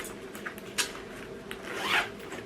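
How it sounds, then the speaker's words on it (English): A zipper runs shut along a Lily & Drew tote laptop bag in short, quiet rasping pulls ending with a louder final stroke, close up with no talking. "Can I zip this shut?"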